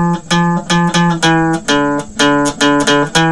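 A guitar plays a rockin' riff: bright plucked notes in a steady, repeating chugging pattern with short pauses between phrases, close and clear with no voices.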